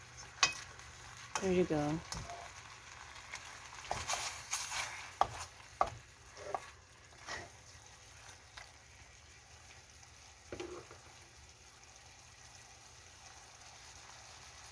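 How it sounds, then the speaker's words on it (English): Chicken stew (dakdoritang) is stirred in a pot, giving scraping clinks and soft sloshing bursts with quiet gaps between them. A voice speaks briefly. "I have to stir it properly"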